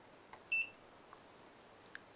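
A digital multimeter in continuity test mode gives one short, bright electronic beep, faint and isolated against a quiet background.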